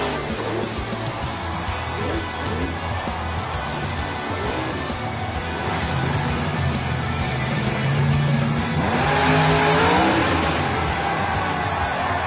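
A monster truck engine revs at a competition event, a loud continuous roar that swells and climbs in pitch toward the end amid crowd and arena noise.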